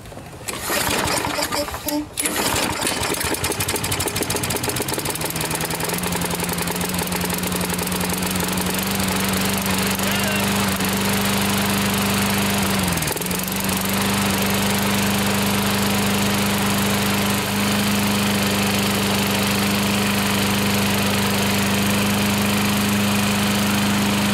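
A vintage Toro Personal Pace lawn mower engine starts with a few sputters, then settles into a loud, steady buzzing drone that stays up close for a long stretch.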